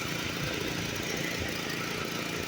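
A small engine idles after its carburetor bowl has been cleaned, giving a steady, continuous running hum throughout with a slightly rough, even texture.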